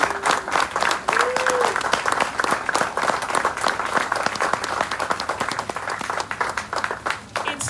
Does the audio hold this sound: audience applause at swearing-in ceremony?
yes